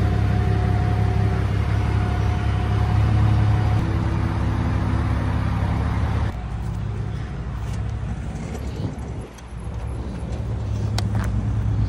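A car being dragged away during a repossession gives off a loud, continuous engine and road rumble. The sound shifts partway through, as if the tow vehicle changes gear or load.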